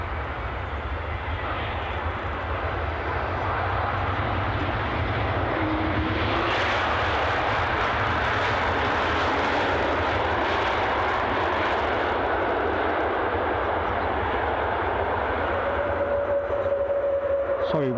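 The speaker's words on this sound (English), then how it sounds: "the United Airlines outgoing Star Alliance 757" A United Airlines Boeing 757 in Star Alliance livery pushes back at Edinburgh Airport, its jet engines giving a loud, continuous, broadband roar that swells partway through. Brief tonal whines rise near the end, with no speech heard.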